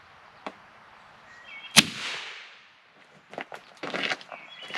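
An airgun fires a cleaning pellet through a chronograph: one sharp loud crack followed by a brief hiss, then a few quieter clicks and shuffling handling sounds nearby.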